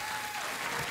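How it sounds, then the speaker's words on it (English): A short burst of studio audience applause on a late-night talk show, dense, even clapping from a large crowd. "When you applaud, it makes me look creepier."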